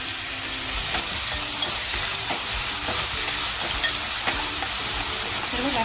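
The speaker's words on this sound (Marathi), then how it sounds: "कांदा आणि टॅमॅटो जो कापून घेतला आहे तो तेलात टाकते आणि छान आपल्याला हा फ्राय करून घ्यायचा आहे" Chopped onion and tomato fry in hot oil, a constant dense sizzle with soft scraping and stirring strokes over it, close and steady throughout.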